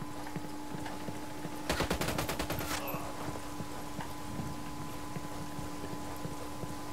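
Gunfire in the video game Ghost Recon Wildlands comes as one rapid automatic burst of about a dozen sharp shots lasting roughly a second, set against a steady background hum and faint ticks.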